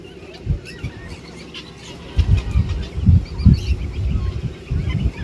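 Turkeys gobbling and squawking in bursts close by at the Pallavaram Friday market, several birds calling over a steady outdoor background.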